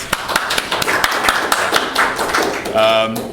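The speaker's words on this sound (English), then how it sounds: "Give yourselves a round of applause." A small audience at an Austin job seekers meetup gives a round of applause, a loose scatter of sharp claps from several people, fairly close, with voices murmuring underneath.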